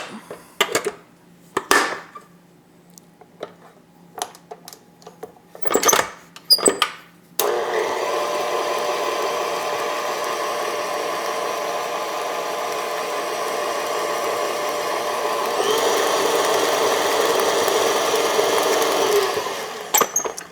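Electric stand mixer creaming butter, sugar and baking powder for Nutter Butter balls, starting with a few short clattering bursts before settling into a steady, loud whirring hum that grows slightly stronger near the end.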